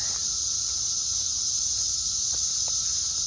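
A dense, steady high-pitched buzz of 17-year cicadas in Ohio drones without a break, loud and continuous like a large chorus all around.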